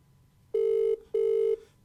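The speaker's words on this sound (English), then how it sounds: "Come on, Buzz, answer the phone" A phone's outgoing ringback tone sounds in two loud, even electronic bursts separated by a short gap, clear and alone against a quiet background.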